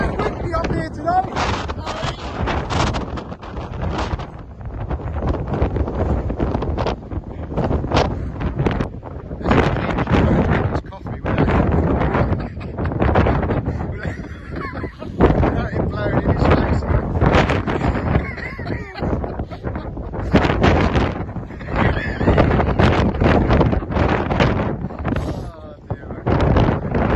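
Strong wind blows across a hilltop on a walk, roaring steadily into the microphone with loud buffeting gusts throughout, while people talk intermittently underneath.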